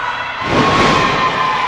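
A wrestling crowd at a tag-team match erupts into a loud, sustained cheering pop that swells in after a brief quieter moment and stays roaring throughout.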